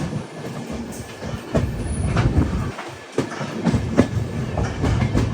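An AC Express train rolls into Chiplun railway station on the hilly Konkan route, wheels clattering over rail joints in an uneven rhythm with a steady rumble beneath, heard up close from inside the coach.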